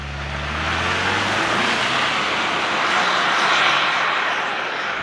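A 2024 Ford Ranger's 2.3-liter EcoBoost four-cylinder pulls uphill, a low engine note fading into a broad, steady rush of road and wind noise inside the cabin.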